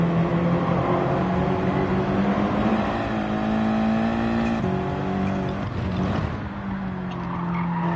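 A Ferrari race car in Gran Turismo 7 with a loud, steady engine drone that shifts pitch through gear changes, with tire squeal and skidding mixed in.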